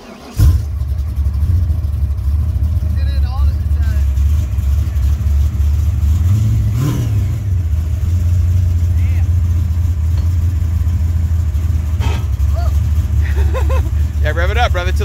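A race car engine fires up with a sharp catch and settles into a loud, heavy, steady rumble that holds close and constant, with people talking over it.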